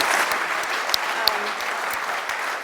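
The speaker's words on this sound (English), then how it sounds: "So a big round of applause to you." An audience applauds at a conference on cloud and cyber, a steady wash of clapping from many hands with a few sharper claps standing out near the middle.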